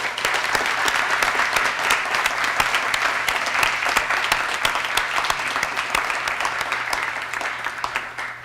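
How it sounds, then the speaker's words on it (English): Loud, continuous round of applause from guests at a scholarship dinner, a dense wash of many hands clapping that holds steady throughout. "So just want to give a round of applause for all of you."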